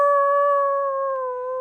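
A human voice imitates a wolf howl: one long, sustained, steady-pitched howl that holds for under two seconds. It is loud and close, with no other sound alongside it.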